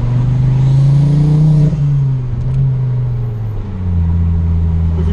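A Ford Focus ST225 engine revs and accelerates with a deep, steady rumble, the exhaust note shifting as the throttle changes, with exhaust pops and bangs.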